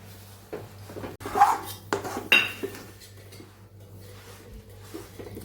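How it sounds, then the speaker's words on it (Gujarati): A metal spoon scrapes and clinks inside a kadhai as sesame seeds are stirred into hot sugar syrup for til chikki, with the gas turned off; a few sharp scrapes over a low steady hum, close and fairly quiet. "હવે આપણે તલને અંદર મિક્સ કરી દેવાના છે"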